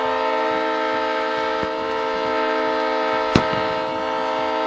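A train horn blares at a high school football stadium as the team takes the field: one loud, sustained, steady chord that holds throughout, with a sharp bang near the end.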